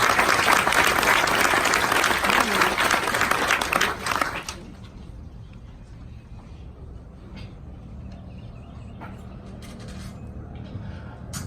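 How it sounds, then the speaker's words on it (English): Audience at an Army infantry graduation ceremony at Fort Benning claps for awardees; loud outdoor-sounding applause for about four seconds, then it drops off abruptly to quiet ambient noise with faint distant sounds. "please join us in giving these fine awardees a round of applause"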